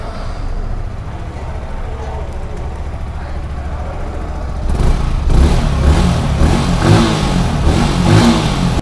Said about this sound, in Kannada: ನಾವು ಬೈಕ್ ಒಂದು ಸ್ಟಾರ್ಟ್ ಮಾಡೋಣ್ರಿ. ಅದ್ರ ಜೊತೆಗೆ ಬೈಕ್ ಸೌಂಡ್ ಹೆಂಗೈತೆ ಅದನ್ನೂ ಒಂದು ತಿಳ್ಕೊಂಬಿಡೋಣ್ರಿ.